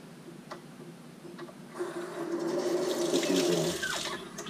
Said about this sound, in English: wash it off with cold water and soap, and then wash it off with hot water and soap